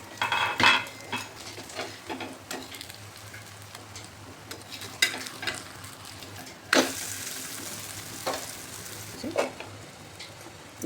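Sweet rice flatbread sizzling faintly on a pan after being flipped, with a low steady hiss broken by frequent clinks and scrapes of a utensil against the pan.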